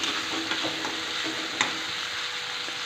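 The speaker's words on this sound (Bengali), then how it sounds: "সমস্ত মশলা ভালো করে কষিয়ে নিতে হবে।" Chopped tomato and spice masala stir-fried in a pan for ghugni, a dense steady sizzle with occasional spoon scrapes and light clinks, close and continuous without voices.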